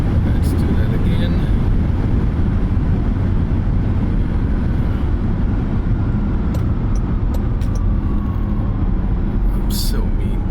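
Jaguar I-Pace electric car travelling fast on the Autobahn, a steady broadband roar of wind and road noise from inside the cabin, continuous and loud.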